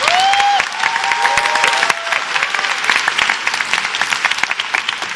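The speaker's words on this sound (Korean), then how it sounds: "저는 이 박수도 되게 감사하면서도 부끄럽거든요" Audience applause in a lecture hall, a dense burst of clapping from a sizable crowd with a few whoops and cheers near the start, then continuing steadily and thinning slightly.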